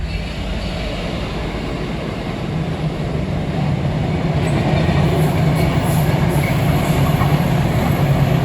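West Midlands Railway train on the Cross City Line near Lichfield, a steady loud rumble of rolling wheels from on board that swells slightly as it runs, with faint squeals later and no talking.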